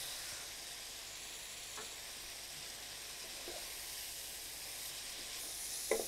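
Vegetables and leftover rice frying in a pan with soy sauce, a steady bright sizzle running throughout at moderate level, with a few soft stirring scrapes and a small clatter at the end.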